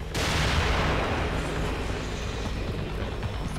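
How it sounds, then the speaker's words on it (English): Gunfire in the video game The Evil Within: a dense, continuous barrage of loud shots and booms that fills the scene, with no talking. "Find cover, they're shooting."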